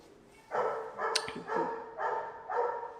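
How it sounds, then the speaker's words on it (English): A small pet dog barks indoors, a series of about five sharp yaps at an uneven pace, near and fairly loud against a quiet room. "I'm sorry about my doggy, guys."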